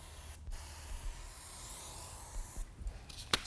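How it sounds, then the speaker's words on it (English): Two short hissing bursts of an aerosol spray adhesive onto a pad during a polished concrete installation, one brief and one longer, close by against a quiet background. "we're going to use a little bit of spray adhesive"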